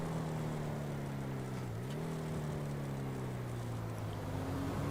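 The Deviant muscle car in GTA Online Arena War holds a steady, low engine drone with a strong humming tone. The pitch dips briefly and then recovers, and no voices are heard.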